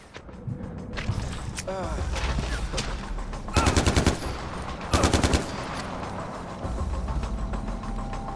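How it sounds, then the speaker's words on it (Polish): Bursts of automatic gunfire in the Far Cry 4 video game, with two loud rapid machine-gun volleys standing out over a steady engine drone and scattered single shots, as voices talk over the action. "Jeszcze ktoś strzela?"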